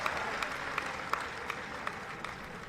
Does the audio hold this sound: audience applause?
yes